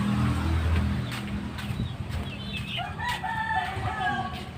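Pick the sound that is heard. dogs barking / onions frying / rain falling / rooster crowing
rooster crowing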